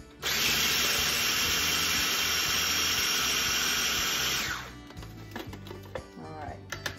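A food processor pulses pecans to chop them finely, a loud steady whirring buzz for about four seconds that then cuts off, leaving quieter kitchen clatter and rattling afterward.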